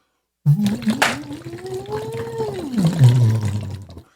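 A voice hums through a straw into water during a semi-occluded vocal exercise, the tone gliding smoothly up and then down while steady bubbling gurgles underneath, close and fairly loud throughout.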